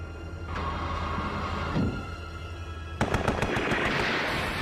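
Gunfire from a gun emplacement in an animated film: a sharp burst of rapid shots crackles in after a stretch of engine-like rumble, continuing as a dense, loud clatter mixed with other effects.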